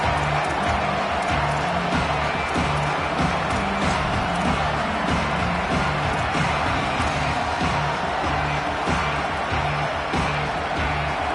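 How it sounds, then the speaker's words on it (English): A loud football stadium crowd roars steadily at Washington vs Penn State, a dense, continuous wash of cheering and shouting that holds strong throughout with no break. "This crowd ready to make its presence known."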